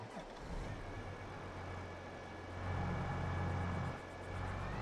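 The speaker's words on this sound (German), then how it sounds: "Und jetzt schmeißen wir mal die Maschine an." A John Deere 9RX tractor engine in Farming Simulator 22 starts up and settles into a steady low diesel rumble with a faint whine, swelling briefly louder, heard alone at low volume.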